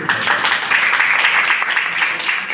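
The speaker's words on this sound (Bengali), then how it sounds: "আমরা একটু করতালি দেব।" An audience at the inaugural ceremony of a Rabindra Sangeet training workshop gives a short burst of steady, dense clapping that holds for a couple of seconds.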